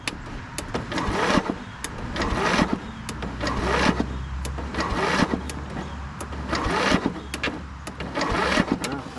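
A Scotts 15/42 lawn tractor engine cranks over on a jump pack but fails to start, giving repeated, loud, rhythmic starter-driven chugging bursts that continue through the whole stretch.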